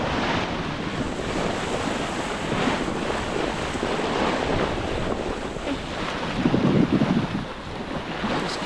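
Strong wind rushes across the microphone aboard a sailing boat at sea, a dense steady roar mixed with wash from the water, swelling briefly louder toward the end.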